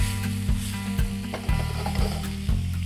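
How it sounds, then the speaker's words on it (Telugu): Soup ingredients with pepper and salt fry in a pan for Potage Saint Germain, a steady close sizzle broken by regular scraping stirs about every half second. "బాగా ఫ్రై అవనిద్దాం."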